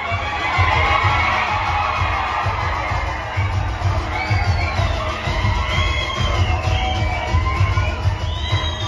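Students cheer at a Ganesh festival mandal award ceremony, a lively crowd of young voices shouting and whooping, loud and sustained with some whistles rising above the din.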